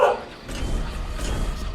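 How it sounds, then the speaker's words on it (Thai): A dog barks once at the start, then low background rumble and faint noise follow. "ใครก็ได้ช่วยหยุดการเห่าของหมาช่วงอัดคลิปที"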